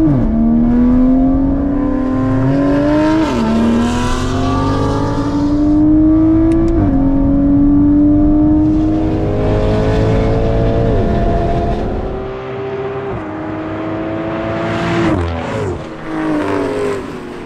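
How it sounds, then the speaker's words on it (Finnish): A Toyota Supra and a 6.2-litre V8 Mercedes-AMG S211 family estate accelerating hard off the line in a drag race, engines roaring loudly with rising revs and distinct gear-shift drops, close by. "Supra taisi hyökätä aika pirteästi tosta viivalta."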